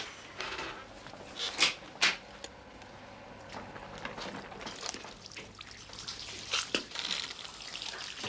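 At a dentist's chair, a patient rinses the mouth with water: soft sloshing and dribbling with a few sharper splashy spits, heard close and fairly quiet.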